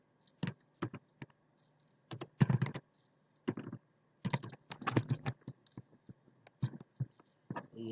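Computer keyboard typing in short clustered bursts of clicks, close and moderately loud, with brief pauses between runs of keystrokes and no talking.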